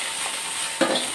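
Cumin and coriander seeds sizzle in hot oil in a home kitchen, a soft steady frying hiss with a sharper burst of crackle near the end as they are stirred.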